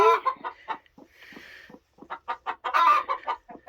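Broody hens cluck and murmur close by in a run of short, quick vocal bursts, with a brief breathy, raspy growl partway through.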